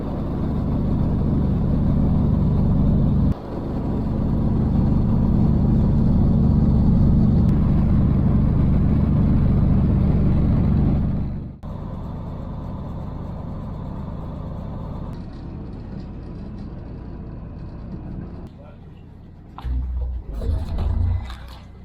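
A fast boat runs from southern Albania to Corfu, its engine a loud, steady low drone that drops suddenly, resumes, then shifts to lower levels and fades into lighter rumbles and bumps near the end.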